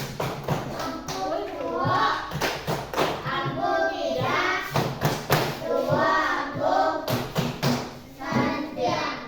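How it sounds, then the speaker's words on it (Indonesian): A primary school class does a thumb clap (tepuk jempol), with quick rhythmic taps and thumps mixed with children chanting and speaking together. "Kemudian tepuk jempol lagi."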